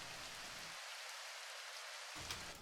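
Recorded rain sample, a dense hiss of falling drops with a brief stretch where the low rumble drops out, steady and quiet with no voices.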